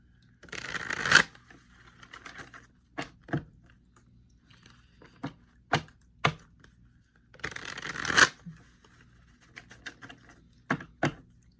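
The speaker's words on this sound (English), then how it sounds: "I'm going to go with my old school deck, which I love so much here. This is the Quantum Tarot." A Quantum Tarot card deck being shuffled in two bursts of riffling, each followed by several sharp, close taps and snaps of the cards being squared, in a quiet room.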